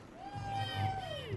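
A crowd cheers at the Roundnet World Championships, a spectator's whoop rising and falling over a bed of shouting and applause, with chatter underneath.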